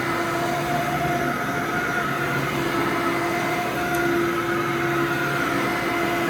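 A 1997 Fantom Thunder vacuum cleaner running on carpet, a loud steady motor whine and airflow roar with faint tonal hums, continuous and close with no talking.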